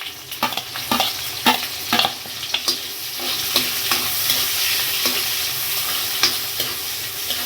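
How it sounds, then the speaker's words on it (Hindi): Chopped onion dropped into hot oil with cumin, left from frying potatoes, for a bhindi aloo sabzi, sizzling steadily while a spoon stirs and scrapes the pan in repeated clinks throughout. "देखिए अब प्याज डाल रही हूँ।"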